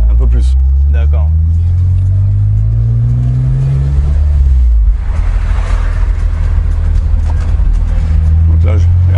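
A car engine accelerates as throttle butterflies open, a deep rumbling drone rising in pitch and revving up, heard from inside under continuous talking.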